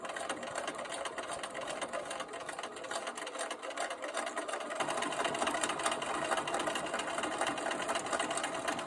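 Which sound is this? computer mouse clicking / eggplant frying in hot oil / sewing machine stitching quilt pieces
sewing machine stitching quilt pieces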